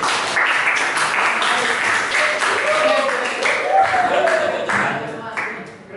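Students in a classroom clap for several seconds, a dense, steady round of applause with voices mixed in.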